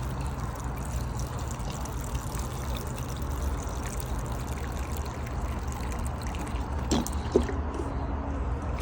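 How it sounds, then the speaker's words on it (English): Water pours steadily into a container of dry leaves for soil testing, a continuous trickling splash that stays even and fairly close throughout, with no talking. "filling that up with water."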